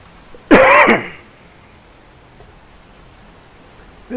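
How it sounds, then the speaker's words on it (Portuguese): A single harsh cough or throat clear bursts out near the start, then quiet room noise follows. "minha tosse tá fogo"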